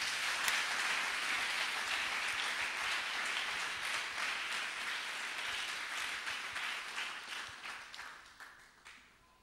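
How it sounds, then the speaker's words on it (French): A church congregation applauding the Holy Spirit: sustained, dense clapping from many hands, loud at first and thinning into scattered claps toward the end. "On acclame le Saint-Esprit"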